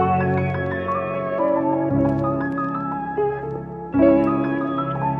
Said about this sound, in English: And with the piano, the reverse piano with the original piano,